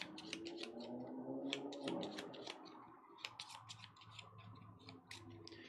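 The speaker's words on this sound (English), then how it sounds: "So we take all my cards, shuffle them up." A deck of board-game cards being shuffled at close range, quiet rapid papery riffles and taps in bursts across several seconds.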